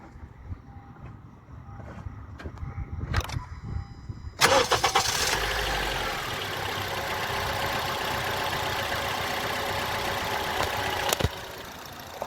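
A 2014 Honda CR-V engine cranks briefly on a cold start, then catches and roars to life, settling into a steady, loud idle with a slight rattle close by.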